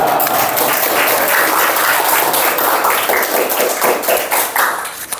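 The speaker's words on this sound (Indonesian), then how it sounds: "Berikan aplaus ya" An audience at a school group discussion session applauds, with dense, loud, steady clapping from many hands that lasts throughout and tapers slightly at the end.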